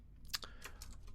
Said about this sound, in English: the keyboard is exaggeratedly loud because the